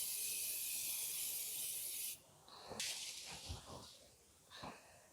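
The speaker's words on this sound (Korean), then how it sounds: "이렇게 이제 스프레이를 다 뿌렸고요" An aerosol spray can of watercolor varnish hisses in a steady close burst over a painting on paper, then stops abruptly, followed by quiet rustling and handling noises.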